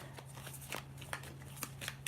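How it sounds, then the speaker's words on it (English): Tarot cards shuffled by hand in a handful of soft, quick riffling bursts spaced unevenly over a steady low electrical hum, with no voices. "we're shuffling it in with the energy she's sending."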